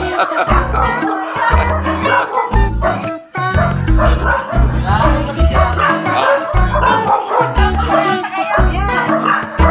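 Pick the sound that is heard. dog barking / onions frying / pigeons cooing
dog barking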